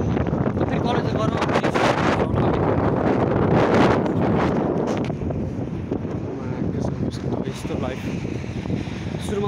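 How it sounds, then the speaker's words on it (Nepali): Strong outdoor wind in Canada buffets a microphone, producing a loud, continuous rumbling roar with gusty surges, while a person talks underneath. "यस्तो घाम लाग्छ कि त्यही पनि हावा चलिरहेको कि साउन्ड कस्तो आइरहेको होला"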